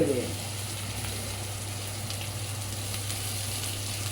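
Onions frying in a pan for a long-keeping onion chutney, giving a soft, steady sizzle over a constant low hum, with a brief stir at the start.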